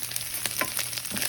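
Eggs fry in a hot pan with a steady close crackling sizzle and a few brief pops, no talking over it.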